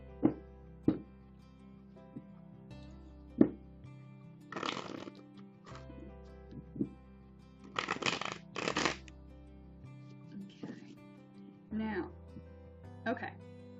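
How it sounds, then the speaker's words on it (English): Tarot cards being shuffled by hand, several quick riffling bursts and soft card flutters spaced among light handling sounds, close and clear, with no talk over them. "you would shuffle them like playing cards"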